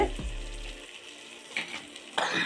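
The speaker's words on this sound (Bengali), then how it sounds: "মশলাটা দেখো একদমই ভাজা হয়ে গেছে" Spice paste frying in a pan while a Bengali biulir dal with radish is being made, giving a soft steady sizzle with a few brief louder bursts near the end, as if from stirring.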